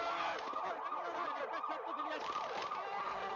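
An ambulance siren wails continuously at a street scene, its rising and falling two-tone sweep repeating steadily and loudly throughout.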